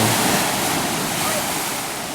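Steady broadband rush of surf and wind, continuous and fairly loud, like waves washing onto a beach at Bray, Ireland, with breeze buffeting the microphone.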